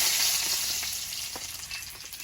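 Chopped garlic frying in hot oil in a wok, a loud steady sizzle with small crackles and pops that eases slightly over the stretch.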